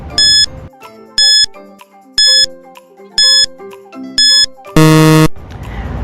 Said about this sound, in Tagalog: Timer starts now.